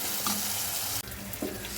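Masala with curry leaves sautés for a kilimeen fish curry, sizzling steadily in a hot pan up close, with a couple of short stirring scrapes breaking the frying hiss.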